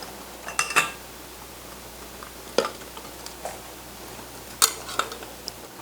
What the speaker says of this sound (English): what I'm going to do is place them into some pint jars for canning